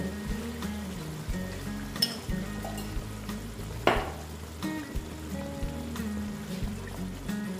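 Food sizzles and fries in a pan after raw oil is added while cooking an egg and poppy-seed dish, a steady close crackle with occasional stirring clatters and a brief louder hiss.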